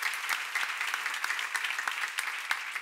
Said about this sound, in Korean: 믿는 사람만 박수 쳐봐요.